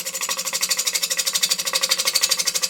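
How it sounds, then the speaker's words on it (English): A hand gouge pushed into the centre of an uneven wooden plank as the handle is raised, giving a fast, steady, rhythmic chattering buzz that stays close and loud throughout. "I'm pushing the gouge into the centre while raising my handle."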